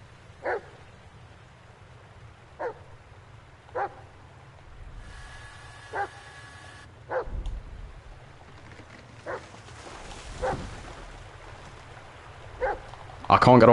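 A dog in the Blair Witch video game gives a series of short, sharp barks spaced a few seconds apart over a quiet outdoor game ambience, with a brief whimper and scuffle near the end.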